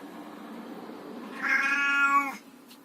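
A pet cat inside a motorhome lets out one drawn-out, close meow lasting about a second, rising out of a quiet room with no speech.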